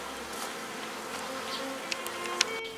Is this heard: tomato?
no